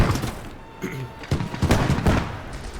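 Distant artillery barrage in a WW2 Eastern Front battle game, rumbling booms and sharp cracks rolling in irregular overlapping bursts, loud and continuous through the whole stretch.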